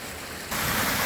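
Water rushing along a small feeder branch of a farm creek in Illinois, a steady broadband wash that jumps louder halfway through as if nearer, brief and close with no voices.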